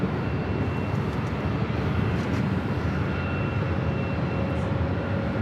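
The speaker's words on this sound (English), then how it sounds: "This is Virgin Atlantic Flight 142. They fly heading back to London Heathrow. This A350" Virgin Atlantic Airbus A350-1000 jet departing Los Angeles International Airport on a flight to London Heathrow, a steady, loud broadband engine roar that holds constant throughout without pause.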